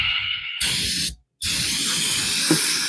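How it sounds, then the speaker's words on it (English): Brake cleaner sprays from an aerosol can into a plastic Suzuki motorcycle fuel tank, loud steady hissing bursts near the mic, stopping briefly for a short gap before resuming. "we're going to take some brake cleaner, get this tank started to clean out a little bit. Spray some stuff through it."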